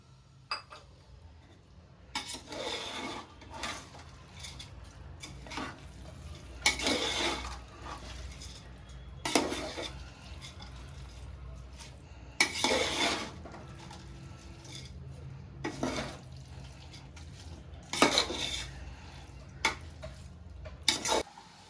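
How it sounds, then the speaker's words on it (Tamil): Masala for a vegetable biryani stirred in an oil pan, heard as rhythmic scraping strokes of a spoon against the metal every couple of seconds over a low, steady hum with soft frying underneath. "மசாலாலாம் நல்லா சேர்த்து கிளறி விட்டாச்சு"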